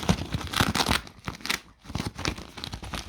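A gift bag from a Gratis shop being torn open and crinkled while unwrapping birthday presents: a steady stream of close, loud rustling and ripping bursts with no talk.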